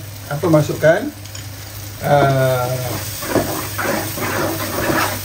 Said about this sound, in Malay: Ada versi yang serbuk kari itu tadi ditumis dulu.